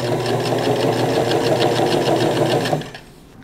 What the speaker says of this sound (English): Now to top stitching this hem down.